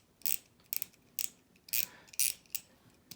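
A Victorinox Sport Ratchet screwdriver clicking through its ratchet: six or seven short, crisp bursts of ratcheting clicks at irregular intervals, close and fairly loud, with no voices.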